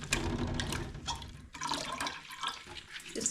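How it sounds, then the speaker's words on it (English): Wool is dunked a few times in cold water mixed with vinegar, giving repeated sloshing, splashing and dripping sounds up close, with no talking. "Now I'm just going to take my wool and do a few dunks in here."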